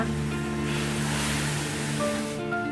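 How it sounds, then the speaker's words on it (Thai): A broad, steady rush with a low hum underneath as chopped pineapple is poured into a hot pan over medium heat for jam and starts to sizzle. "ตั้งกระทะแล้วเทสับประรดลงไปเลยนะคะ"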